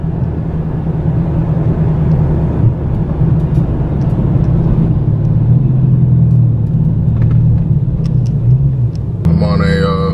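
A car drives over a bridge, its cabin filled with a loud, steady road and engine rumble that continues throughout, and a brief sound breaks in near the end.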